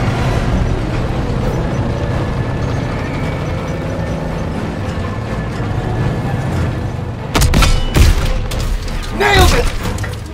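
A tank destroyed in a Call of Duty: WWII battle: a dense, steady roar of combat noise gives way to sharp, heavy blasts near the end, loud and close.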